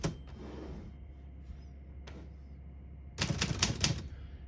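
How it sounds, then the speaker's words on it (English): A 1933 Underwood Universal portable typewriter snaps out a few separate key strikes, then a quick run of rapid clacks near the end, close and crisp in a quiet room. "all the keys type nice and none of them skip or stick"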